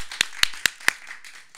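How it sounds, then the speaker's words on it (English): Four sharp, evenly spaced claps ring out close by in a quiet talk-show studio, followed by softer scattered patter at the end. "And my audience, let me hear you clap."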